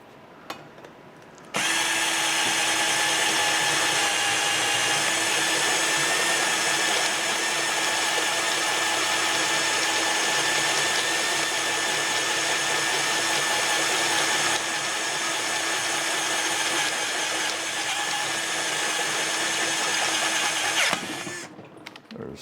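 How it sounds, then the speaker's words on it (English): A power drill switches on and runs continuously for about twenty seconds with a steady high motor whine, close and loud, then cuts off abruptly and winds down. "Drill."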